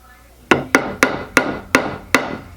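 Six sharp fretting-hammer taps driving a fret into a wooden cigar box guitar neck, in a steady, slightly uneven rhythm, each a crisp close knock with a short ring, no voices.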